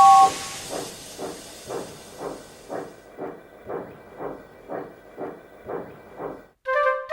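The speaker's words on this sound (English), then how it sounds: "James puffed away to pull his first train." James the steam locomotive puffs steadily while pulling his first train, about a dozen rhythmic chuffs with hissing steam after an opening burst, ending in a bright whistle-like tone.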